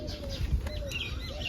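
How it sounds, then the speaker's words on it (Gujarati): A white pigeon gives soft, low coos, faint and fairly close, mixed with brief higher bird chirps against a quiet outdoor background. "બાકી જો આ કબૂતર છે વ્હાઈટમાં,"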